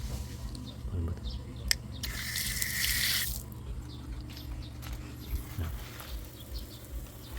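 A strong shower runs in a beach resort bathroom, a loud hissing gush for a second or two amid quieter dripping and splashing, with speech nearby.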